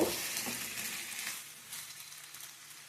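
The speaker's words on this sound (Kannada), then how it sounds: "ಇಷ್ಟು ಚೆನ್ನಾಗಿ ಫ್ರೈ ಆಗಬೇಕು" Green chillies fry in oil in a pan with a steady, close sizzling crackle, louder at first and then easing slightly while stirring continues, with no voices.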